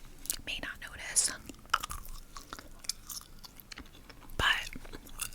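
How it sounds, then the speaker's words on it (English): Gum being chewed close to the mic in a quiet ASMR setting, soft wet smacks and crunchy bites recurring in an uneven rhythm, with a sharper louder chew near the end. "it's been a minute since I've done a video with gum chewing"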